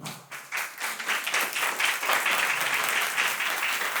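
A live stand-up audience breaks into applause when asked who are football fans; after a brief lull it swells into full, sustained clapping from many people that holds to the end.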